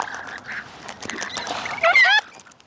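A mob of wild Australian birds calls near people, with scattered honking and quacking cries that build into a louder burst of overlapping calls before stopping abruptly.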